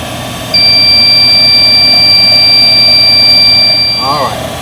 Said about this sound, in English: here is my gas leak detector